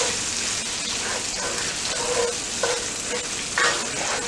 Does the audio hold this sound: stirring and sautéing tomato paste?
yes